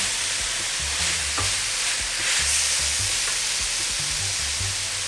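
Gravy being whisked in a pan over roast beef cooking, a steady close sizzle with rhythmic scraping strokes of the whisk underneath, no voices.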